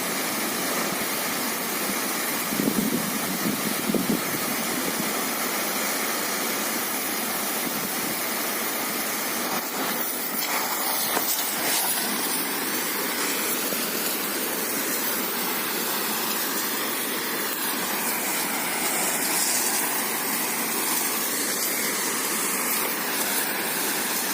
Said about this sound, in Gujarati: જો પાઇપ છે, ટ્રેક્ટર પંપેથી દવા છાંટતા આવીએ છીએ।